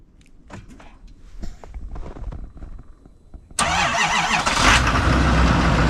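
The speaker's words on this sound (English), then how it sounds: "let's fire this thing up." A 2024 Chevrolet Silverado Duramax dually diesel engine cranks briefly, then catches and settles into a loud, steady close-up idle in cold, snowy weather.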